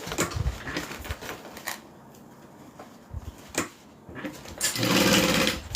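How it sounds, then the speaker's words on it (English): A sewing machine runs along the side seams of a fabric bag in short bursts, with pauses and handling noises between them and a longer, louder run near the end. "I'm going to sew open my side seams so that they are nice and flat"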